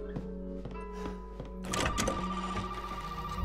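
An old telephone rings in the horror video game Resident Evil 7, a bright metallic bell trilling in quick repeated bursts, near and fairly clear over quiet room ambience.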